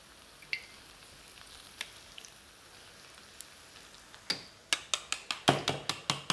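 Prawn and vegetable tempura crackling in hot oil, a soft steady sizzle that breaks into a quick run of sharp pops and spits toward the end, close and without voices.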